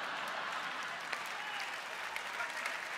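Audience at the ADISQ music awards gala applauding, a dense, steady roar of clapping from a large crowd in a hall, heard at some distance and sustained throughout.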